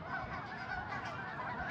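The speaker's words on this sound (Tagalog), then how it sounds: "Birds are migrating." Dense, steady honking from a large flock of migrating geese in Canada, many overlapping calls filling the air at moderate distance with no pauses.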